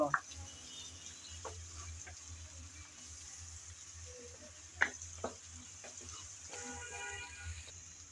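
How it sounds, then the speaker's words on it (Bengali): Chopped onions lightly frying and being stirred in a pan, a soft steady sizzle with occasional scrape and clink of the spoon, fairly quiet under a low background hum. "পেঁয়াজ আমি একটু নেড়ে চেড়ে হালকা করে ভেজে নেব"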